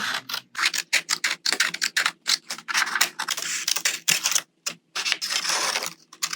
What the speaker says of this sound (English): One of the things I dislike doing in my setups is cutting with scissors